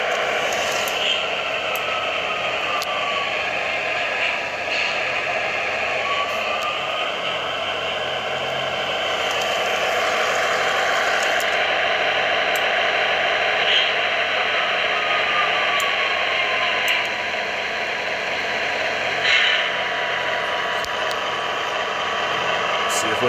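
Fairbanks Morse style prime mover of an FM Trainmaster locomotive, a steady loud continuous diesel drone with mechanical rattle held throughout, with no talk over it.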